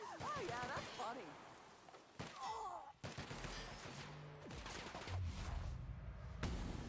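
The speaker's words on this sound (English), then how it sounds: "Shotgun's finally doing something, let's go!" A shotgun fires in The Outer Worlds, several sharp blasts spaced across a few seconds amid other game combat noise, with a voice talking between shots.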